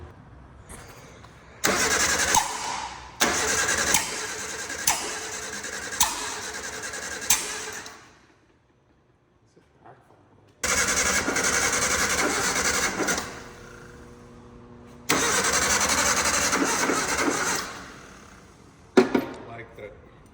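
An old car with a used 1.3L engine cranks repeatedly after gas is poured into the carburetor, three long loud bursts of rhythmic starter churning separated by pauses, with people talking nearby.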